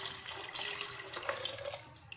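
Two glasses of water are poured into a pot of spiced chickpeas cooking over a medium flame, making a quiet, steady splashing and gurgling pour with no talk.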